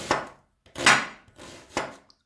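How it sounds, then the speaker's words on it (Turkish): Knife slicing red onion into julienne strips for a Turkish liver kebab dish, three separate crisp cutting strokes on a board, close and fairly loud with short pauses between. "Sonra jülyen kesiyorum soğanımı."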